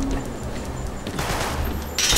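Gunfire in Uncharted 3: Drake's Deception Remastered on PS4, a dense, continuous rattle of shots that swells louder near the end, with no talk over it.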